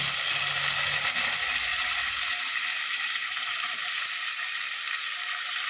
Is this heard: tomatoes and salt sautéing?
yes